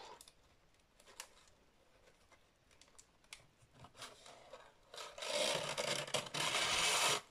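Paper being rubbed and pulled through the punched holes of a paper gift bag made on an Artoz punch board, with soft scattered rustles that swell into a louder, sustained scraping rasp near the end.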